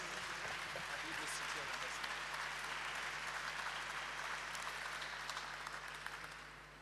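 Steady, dense applause from a church audience welcoming a guest preacher at a bilingual deliverance and healing service, a continuous wash of clapping throughout that tapers slightly at the end.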